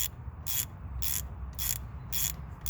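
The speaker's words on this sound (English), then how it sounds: "put your wrench on tighten and go ahead and start on the top" A ratchet wrench tightening a brake caliper bolt: five evenly spaced bursts of quick clicking ratchet pawl, close up over a low steady background hum.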